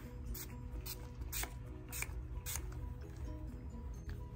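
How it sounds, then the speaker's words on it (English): Four or five quick spritzes of makeup setting spray from a spray bottle, evenly spaced over a low steady background hum. "spray it everywhere."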